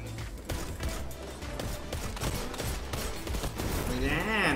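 Rifle gunfire in a video game's Crucible mode, scout rifle shots cracking in a rapid busy stretch amid game effects, with a rising electronic whoosh near the end.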